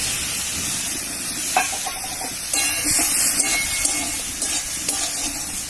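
Chillies and tomatoes frying in a pan hiss and steam as a little water is poured in, with a steady sizzle that swells briefly and a few light stirring clinks, close and alone.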